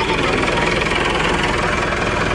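Tractor engine idling on open ground in Cholistan near Bahawalpur, a steady, loud, continuous mechanical rumble with a slight knocking throb throughout.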